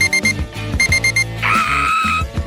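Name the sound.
alarm going off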